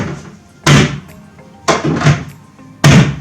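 An oak desk door on a Blum soft-close hinge swings shut three times in a row, each close giving a firm, muffled thunk with a short settling tail, close and fairly loud in a quiet room.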